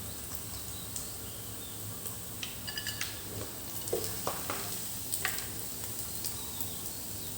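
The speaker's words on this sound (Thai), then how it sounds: "ใส่เครื่องแกงลงไปครับผม คั่วเครื่องแกงให้หอมก่อนนะครับ" Thai curry paste stir-fried in a pan for a three-flavour chili sauce, with a steady close sizzle broken by scattered scraping clinks of a utensil against the pan and no talking.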